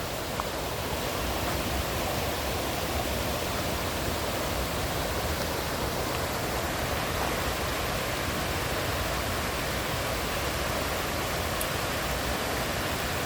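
Waterfall at Wilson Dam pours in a steady, dense roar of rushing water, unbroken and even throughout with no other sounds.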